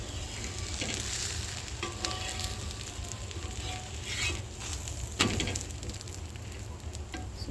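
A dosa sizzles softly on a hot pan, a steady low frying hiss with a few faint scraping touches and one sharper knock as it is turned over; fairly quiet with no speech.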